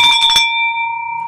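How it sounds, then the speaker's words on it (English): A small gong struck once to celebrate a sales win rings out with a bright clang, then a long shimmering sustained tone that fades slowly with no talk over it. "so I bought that gong"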